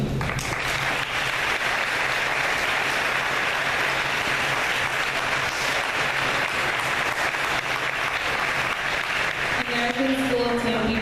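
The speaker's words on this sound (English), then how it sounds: "If you give a round of applause for when they sit down, that would be awesome" A school audience gives sustained applause during an international student welcome at a high school event, dense even clapping throughout, with a voice starting to speak at the very end.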